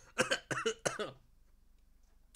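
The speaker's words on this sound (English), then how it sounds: "I developed a nasty cough." A person coughs in a series of harsh, loud bursts close to the mic, about four in quick succession over the first second, followed by near silence and a brief faint click at the end.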